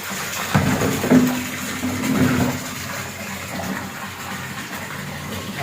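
Water rushes from a newly installed filter plant at a children's academy, a steady close gushing flow that is loudest at first and then settles into an even, softer stream.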